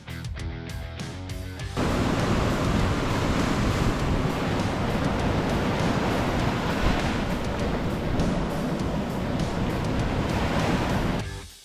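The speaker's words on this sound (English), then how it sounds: "it's a beautiful place to see kind of the raw power of the ocean" Ocean surf pounds the shore at Boca Prins beach in Aruba, a loud, continuous roar of crashing waves with wind buffeting, beginning after a brief quieter moment and sustained to the end.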